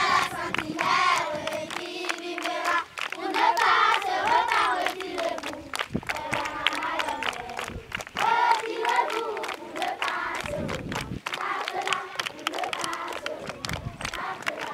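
Schoolchildren at a primary school gather outdoors, singing and cheering loudly as a crowd. Their voices are chanting and shouting together, with some clapping mixed in.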